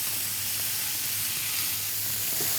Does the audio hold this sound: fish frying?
yes